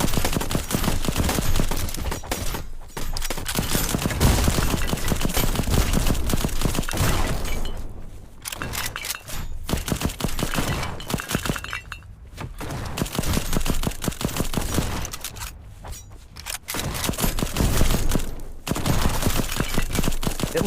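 Turret gunfire in the video game Black Skylands: dense, sustained bursts of rapid shots, loud and close, continuing for most of the stretch with a few brief pauses between volleys.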